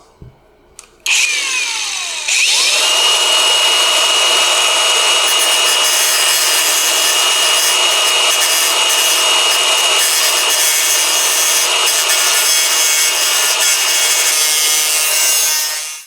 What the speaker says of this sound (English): 45-degree angle when I grinding the weld